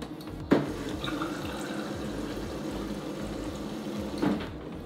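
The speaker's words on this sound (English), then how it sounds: "I'm going to pull out 1 glass of water" Water runs steadily from a GE refrigerator dispenser into a glass for several seconds, bracketed by a soft click at the start and another near the end.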